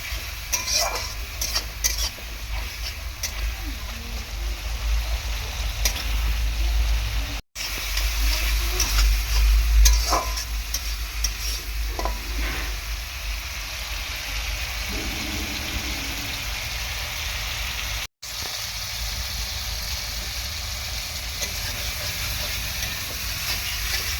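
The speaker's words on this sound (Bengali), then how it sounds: "মশলাটাকে ভালো করে এরকমভাবে রেডি করে নেব মশলাটা যাতে খুব সুন্দরভাবে কষানো যায়" Thick spice paste with a little water sizzling and spluttering in a hot kadai, a continuous frying hiss with occasional stirring scrapes, close and steady.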